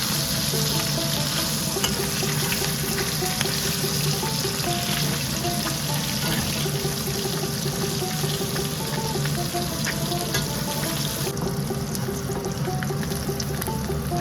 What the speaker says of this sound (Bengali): উল্টে পাল্টে সুন্দর করে ভেজে নিচ্ছি।